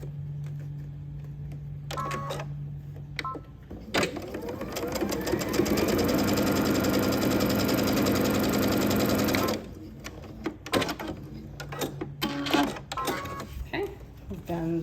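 A sewing machine stitches tote bag pieces together in one steady, loud whirring run of about five seconds, with a person talking before and after it.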